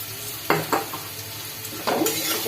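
Turmeric, cumin and coriander powder frying in a pan for a banana-flower curry, with soft sizzling and a few louder stirring scrapes close by, no talking.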